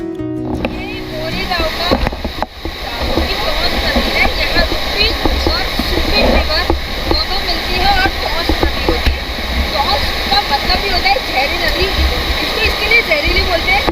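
The Tons River rushes loudly where the Rupin and Supin rivers meet near Mori village. Dense, unbroken water noise holds steady throughout.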